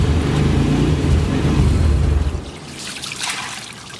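Water from a hose rinses an aluminum car wheel, giving a steady, close splashing rush for about two seconds before it fades to a quieter trickle.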